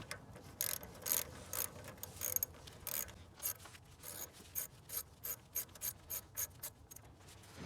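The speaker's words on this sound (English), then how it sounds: "you want to remove this clamp using a 10mm socket and ratchet" A 10mm socket and ratchet loosen a clamp on a Nissan Juke engine, with crisp, rapid clicking bursts at close range that settle into a regular back-and-forth rhythm.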